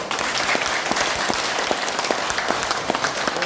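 A gathered audience applauds in a dense, continuous round of clapping at an even volume, with individual sharp claps standing out from the steady wash.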